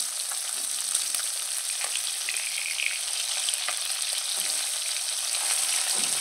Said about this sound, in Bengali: দেখো এক সাইড মাছ ভাজা হয়ে গেছে